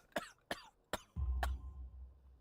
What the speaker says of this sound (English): You have a severe cough.